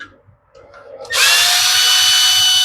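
A power driver fitted with a T20 Torx bit spins up loudly and whirs steadily up close while backing out screws to remove a Homelite weedeater's carburetor, after a brief quiet moment of handling noise.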